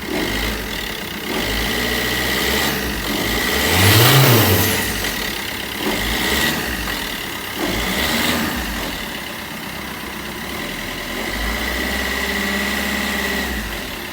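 A car engine idles steadily, then revs up briefly around the middle, with a persistent buzzing rattle over the low engine drone.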